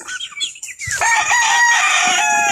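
Backyard chickens and young chicks cluck and squawk close by, with a loud sustained call rising over scattered clucks.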